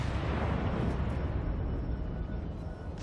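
Battleship guns firing a broadside in World of Warships, a heavy rumbling blast that swells loud at once and rolls on for several seconds before slowly fading.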